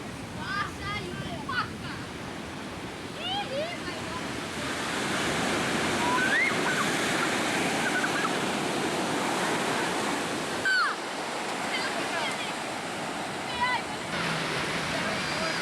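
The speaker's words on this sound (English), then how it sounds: "It's the ocean, it's warm." Warm ocean surf off Kauai on a cloudy, rainy day during a raft trip, a steady broadband wash of waves with wind rumble holding throughout, and brief bird-like chirps along the way.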